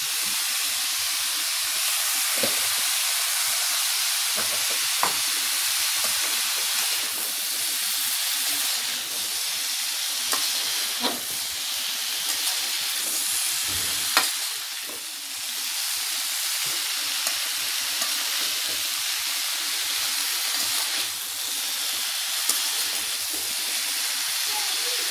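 Fried potatoes and broccoli sizzling in a pan, a loud continuous close hiss of frying that runs unbroken throughout, with occasional small pops and clicks.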